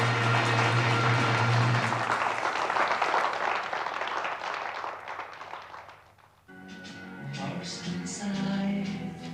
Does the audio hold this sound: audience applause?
yes